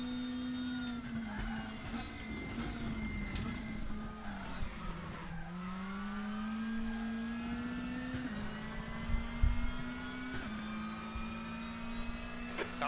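Lada touring car at Moscow Raceway in the WTCC 13 racing game, its engine droning steadily near and loud while the tyres spin and squeal under power, pitch rising and dropping with gear changes.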